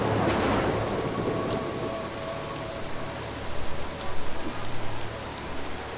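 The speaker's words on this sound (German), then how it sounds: "jetzt warten wir, bis der Blitz da war, ein zuverlässiger Partner in dieser Sache" Steady rain pours throughout a stormy night level of the stealth game Mark of the Ninja, with a rumble of thunder early on and a patter of louder drops building toward the end, no voices present.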